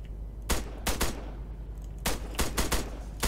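Gunfire in the Arma video game mod Altis Life: sharp, close gunshots fire in short clusters of two or three over a low steady hum, with brief gaps between bursts.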